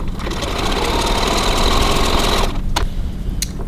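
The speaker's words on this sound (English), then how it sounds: "we're just going to stitch 3 millimeters, 1/8 of an inch from the opening, and I'm just going to back tack to lock those off" A sewing machine stitches along a fabric wallet opening with a steady, loud, fast whir for about two and a half seconds. It stops, then a couple of sharp clicks follow as it back tacks. No one talks.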